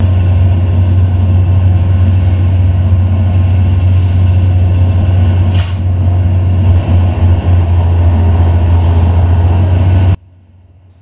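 A McHale V6 round baler towed by a 185-horsepower New Holland T7 tractor bales alfalfa, a loud, steady drone of engine and machinery that runs unbroken before stopping abruptly.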